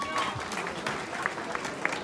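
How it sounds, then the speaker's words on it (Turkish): An audience applauds at a folk music night with kemençe players in Ratingen, a soft scattered clapping under a voice speaking over it. "Ali Alkurt'u, Umut Ayvaz'ı sonra da kendinizi alkışlıyorsunuz."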